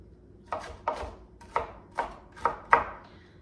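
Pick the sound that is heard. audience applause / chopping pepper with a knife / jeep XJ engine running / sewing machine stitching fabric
chopping pepper with a knife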